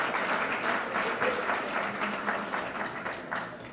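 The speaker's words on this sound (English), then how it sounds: "Give yourself a round of applause." A crowd at a civic celebration applauds steadily in a dense, moderately distant wash of claps that stays even for a few seconds before easing slightly.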